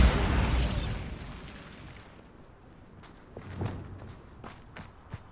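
Bombarda blast spell cast in Hogwarts Legacy on PS5 during a haunted Hogsmeade quest: a loud broadband explosive burst at the start that decays over about two seconds, followed by scattered smaller pops and thuds.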